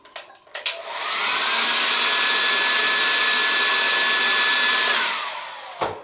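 A hair dryer blows over silk painted with wet dye to set tiny flower-head drops, switching on with a rising whine, holding a steady loud roar for about four seconds, then winding down, with a few small knocks at start and end.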